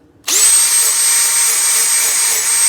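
Welding on rust holes in an OBS Ford radiator core support gives a loud, close, continuous hissing buzz that starts abruptly after a brief quiet moment and holds steady with a high whine.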